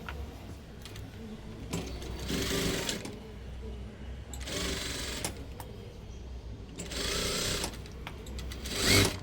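A sewing machine stitches a blouse in several short bursts of fast mechanical whirring, separated by quieter pauses with faint handling noise, ending in a sharper click.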